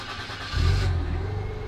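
A Peugeot 607 Paladine concept car engine turns over and catches, settling into a low, steady rumble close by.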